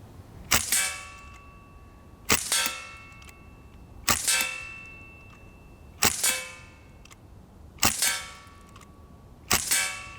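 A Sig MCX Gen 2 .177 PCP air rifle fires six sharp, ringing shots at a steady pace about two seconds apart, each leaving a short metallic ring.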